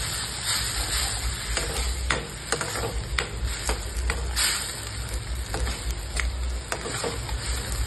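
Turmeric and spices are stirred into a pan of frying onion and tomato for a thin pea curry, a soft steady sizzle punctuated by repeated close scraping strokes of a spoon.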